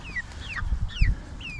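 ISA Brown chickens give several short, upward-bending clucks at close range, with faint low rustling and movement underneath.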